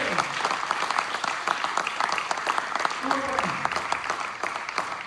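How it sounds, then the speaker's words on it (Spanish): A church congregation applauds loudly and energetically during a worship service, sustained crowded clapping with a preacher's voice calling out over it. "aplauso bien fuerte al Dios que te ve"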